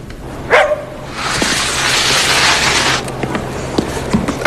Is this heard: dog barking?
yes